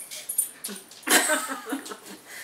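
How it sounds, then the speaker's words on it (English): A puppy with big brown eyes whimpers and whines in short, breathy bursts, with one louder squeal in the middle, close to the listener, and no talk over it. "Is it puppy? It's so cute."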